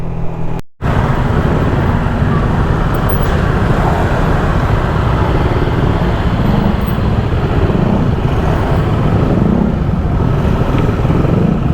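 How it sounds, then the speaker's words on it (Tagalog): Heavy road traffic on a bypass road, with cars and motorcycles rushing by in a dense, continuous roar that stays loud and close throughout. "daming sasakyan, daming motor."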